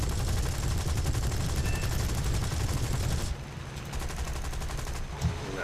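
Rapid bursts of 20mm Hispano cannon fire from a British Tier II aircraft in the War Thunder video game, a dense continuous rattle for about three seconds, then a quieter stretch with lighter gunfire and engine drone.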